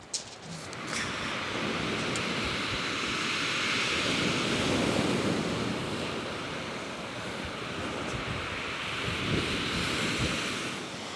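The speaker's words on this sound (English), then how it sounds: "The swells and the surf's calmed down." Sea surf and swells rolling onto the shingle of Chesil Beach make a continuous broad wash of breaking waves, loud and steady, with wind buffeting the microphone at the start.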